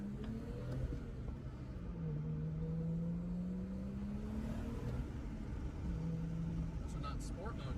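A tuned full bolt-on car with a downpipe pulls hard under acceleration, engine note rising and shifting through gears, loud droning under ongoing chatter from the occupants.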